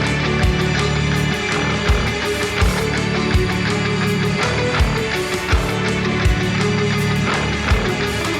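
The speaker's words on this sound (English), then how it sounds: "focusing on that Lydian sound, and it sounds kind of like this." A guitar riff in Lydian mode built around the sharp fourth, played with a full band of bass and drums, dense and loud with steady rhythmic hits throughout.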